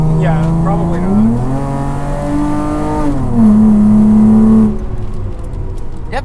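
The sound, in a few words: 400HP Chrysler Crossfire track car engine accelerating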